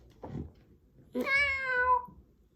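A cat gives a short, soft chirp followed by one drawn-out, close meow that slowly falls in pitch.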